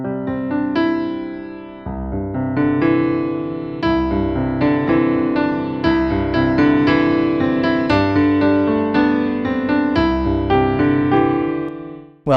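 Piano playing a New Age style 1-5-8-9-10 left-hand pattern in C, rolling low arpeggios under sustained chords, steady and full for about twelve seconds with no talking.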